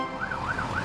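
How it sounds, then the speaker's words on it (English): A cartoon fire truck's siren wails in a rising-and-falling electronic cycle, loud and close, repeating about three times in under a second with no talk. "They're brumming too loud to hear Fiona's siren!"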